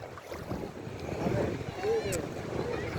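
Strong wind rushes across a microphone at a seaside beach, a steady buffeting roar with surf in the background, while a person speaks over it.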